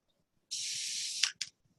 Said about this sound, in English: And just spray those edges that are fraying a little bit.